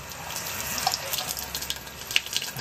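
A stain test sample plunged into a filled sink of water, giving a steady, close splashing and gurgling wash with a few brighter drips over about two and a half seconds.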